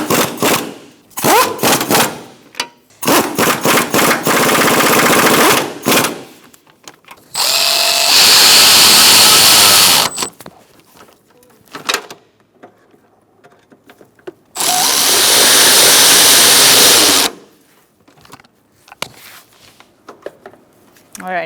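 Power tool snugging transmission mount bolts on a 2004-2009 Mazda 3 2.3L, heard as loud, close bursts of rattling impact-driver hammering with long sustained runs and gaps between, while a person talks in between.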